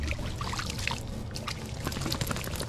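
Pond water is poured and splashed onto a dog outdoors, a close, fairly loud rush and trickle of water lasting a few seconds.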